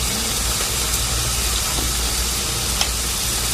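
Onions and tomatoes sizzle steadily in hot oil in a pan, a loud, close, continuous frying hiss with a few faint clicks and no talking.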